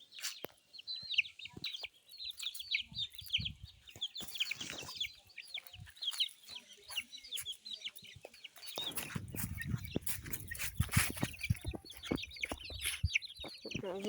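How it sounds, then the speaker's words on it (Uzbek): Eight young chicks chirping in a steady stream of high peeps close by, joined later by lower clucking from adult fowl and background rustle. "Mana jo'jalarimiz."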